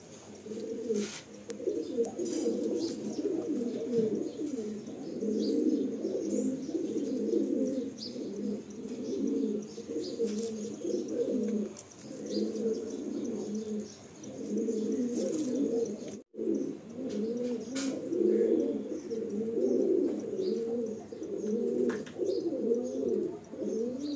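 Pigeons coo steadily and close by, several soft throaty calls overlapping in a continuous murmur that runs without a break from start to finish.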